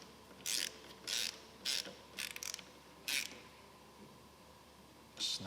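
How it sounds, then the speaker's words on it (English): Ratchet wrench tightening the brake pad pin on a bagger motorcycle's rear brake, heard as several short bursts of clicking with brief pauses between them, close and fairly quiet. "I'm just going to tighten that pad pin."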